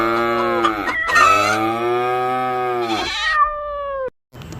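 Cows on a farm moo loudly and close by in a long drawn-out call that breaks briefly, then a shorter second call that tails off into quiet.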